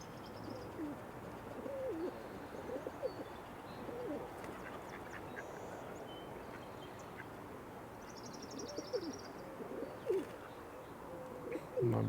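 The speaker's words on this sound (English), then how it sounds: "And I'm just surrounded by the rock pigeon." Rock pigeons coo softly and repeatedly all around, low burbling calls overlapping at close range amid a busy marsh backdrop with scattered other bird calls.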